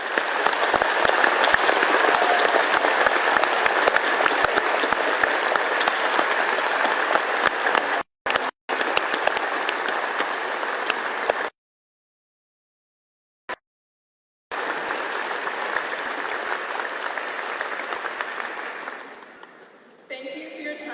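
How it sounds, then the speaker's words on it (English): Sustained applause from an audience honoring retiring teachers at a 2021 high school commencement, loud and steady, with two short dropouts and a long silent gap midway before clapping resumes and fades out. "Would each of our retirees please stand? Let's give them a round of applause."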